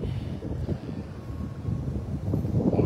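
Steady outdoor wind buffets the microphone for the whole stretch, giving a continuous low rumble that rises and falls without pause and has no talking over it.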